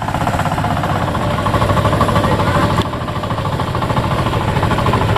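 A farm tractor used for hauling harvested rice runs on a rural road in Magsaysay, Viga, Catanduanes, its engine a loud, close, steady chugging rumble that continues unbroken throughout with no talk.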